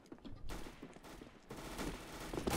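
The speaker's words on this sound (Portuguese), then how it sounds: "Só porque eu dei uns tiros nele" Gunfire from a multiplayer shooter match on the Monastery map, with bursts and volleys of shots crackling through much of the short stretch, moderately loud and dense.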